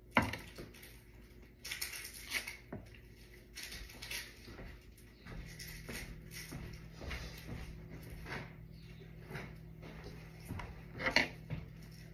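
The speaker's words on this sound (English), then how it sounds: "I gotta cut the onion up, man." An onion is chopped with a knife on a board in a home kitchen, giving soft, irregular taps that repeat throughout, faint and close with low room noise.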